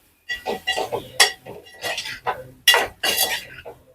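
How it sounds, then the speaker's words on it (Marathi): Dried ribbon fish sautéed in hot oil with spice masala, metal spatula clinking and scraping against the pan in quick, close rattling strokes throughout. "आता आपण वाकट्या घालून घेऊया आणि छान परतून घ्यायचं आपल्याला."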